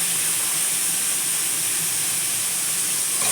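Chicken pieces dropped into hot oil over sautéed onion and tomato for a chicken gravy, giving a loud, steady broadband sizzle and hiss that holds evenly throughout with no talking.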